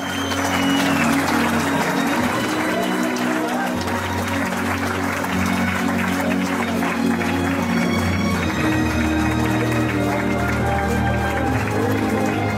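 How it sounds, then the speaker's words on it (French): At a Miss Élégance Tarn pageant, the audience applauds the newly crowned winner, a thick steady roar of clapping running under loud celebratory music throughout. "Un tonnerre d'applaudissements à votre nouvelle Miss Élégance Tarn"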